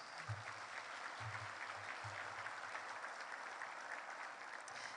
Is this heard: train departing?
no